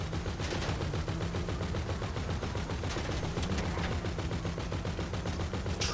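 Sustained automatic gunfire in GTA V during a street shootout with police, a steady loud rattle of rapid shots that runs without pause over background game noise.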